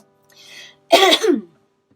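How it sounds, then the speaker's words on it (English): A single short cough rings out close by after a brief soft breathy sound at the end of a traditional Irish song, then silence. "Lovely little cough at the end there."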